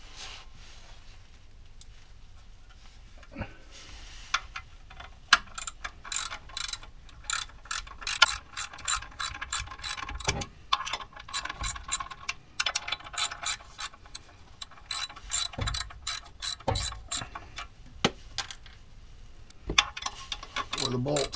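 A ratchet wrench clicks away while loosening the pressure plate bolts on a flywheel in a garage, with quick bursts of close metallic ratcheting broken by short pauses and a few clunks.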